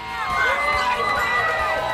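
Crowd at the White Marlin Open fishing tournament cheering and shouting as a white marlin is carried over to the scale, a steady, lively roar of many voices that holds for two seconds.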